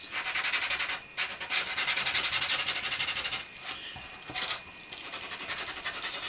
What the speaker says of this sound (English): we'll just take a little piece of sandpaper and just carefully rough up the marked section